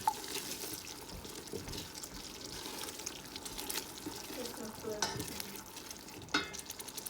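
White onion and shallots sizzle softly in a pan as a utensil stirs them in a few scraping strokes, with occasional sharper knocks against the metal, close but fairly quiet.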